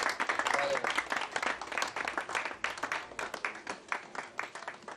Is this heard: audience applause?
yes